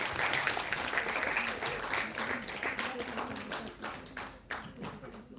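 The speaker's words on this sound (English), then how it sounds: "A big round of applause for Dr." Audience applause at a health conclave in Chandigarh as a doctor is called to the stage, dense steady clapping from a large crowd, fading slightly toward the end, with a voice faintly over it.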